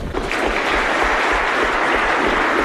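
Beatles fans in an audience at a talk on the Beatles in Cleveland answer with a round of applause, loud, dense clapping that stays steady throughout the short stretch.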